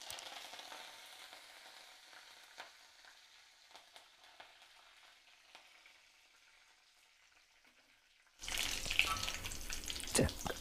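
Mustard seeds and curry leaves frying in hot oil: a faint, crackly sizzle with scattered small pops, then a sudden jump to a louder, fuller hiss and spatter near the end.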